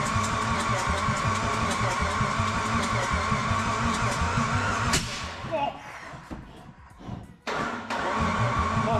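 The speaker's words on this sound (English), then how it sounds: "I keep the engine turning over" A turbo Mitsubishi Pajero's newly built forged engine is cranked over with a rhythmic mechanical chug, then cuts off into quieter clanks and rattles before briefly turning over again.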